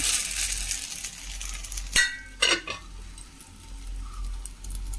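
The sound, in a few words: snack frying in oil being flipped in pan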